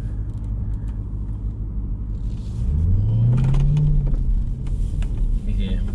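A 707 hp Jeep Trackhawk's engine rumbles, then revs up in a rising whine as it accelerates, loud and close, before settling back into a steady drone.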